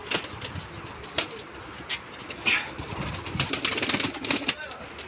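Pigeons coo in a loft among sharp wing flaps and scattered clicks, with faint voices in the background.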